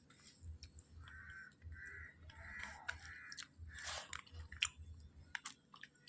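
Home-cooked Tamil meal of sambar, rasam and kootu being tasted, with soft close chewing and small crunches over a low background hum, distant crow caws breaking in now and then.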